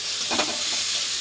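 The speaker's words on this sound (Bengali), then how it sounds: "চলো এখন কষিয়ে নিই।" Spice masala sizzles in a hot pan as it is stirred and sautéed, a bright steady hiss with a brief scraping stir in the middle, close and alone.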